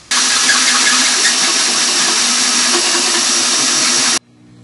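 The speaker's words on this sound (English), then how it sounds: "I'm satisfied with my hole location here, so I figured I might as well go ahead and drill this hole." Hole saw cutting through a steel plate on a Tormach PCNC 1100 mill, a loud, steady, dense grinding whine that starts abruptly and stops sharply after about four seconds.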